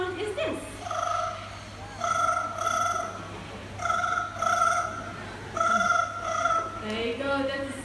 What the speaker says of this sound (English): that's the sound of the ring telephone